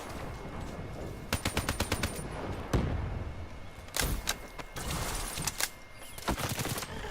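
Man O' War assault rifle fire in Black Ops 3, several sharp rapid bursts with short pauses between them, loud and close, alongside other game impacts and thuds.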